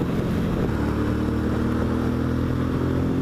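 A Suzuki DL650 V-Strom motorcycle carrying two riders and fully loaded pulls out to overtake, its engine drone steady and loud up close under rushing wind noise.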